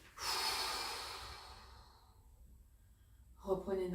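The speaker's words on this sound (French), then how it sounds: "Et soufflez fortement par la bouche et arrêtez de sautiller." During a sophrology exercise in a summer yoga class, someone breathes out forcefully through the mouth after jumping in place: one strong, close exhale that fades over about two seconds, followed by a short voiced sound at the end.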